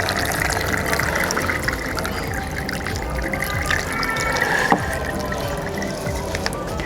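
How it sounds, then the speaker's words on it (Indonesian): Water pours steadily over a freshly planted Aglaonema Red Sumatra (Pride of Sumatra) leaf cutting until it is soaked, a continuous close splashing wash with no break. "lalu kita siram sampai basah seluruhnya, ya."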